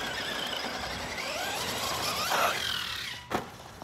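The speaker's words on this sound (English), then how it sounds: "Okay, I definitely got more driveline noise now." An RC car, a Senton 3S fitted with upgraded CNC 4S differential gears, drives with a whining, squealing driveline under broadband rumble, a pitch sweep midway and a brief sharp impact near the end, with no talk.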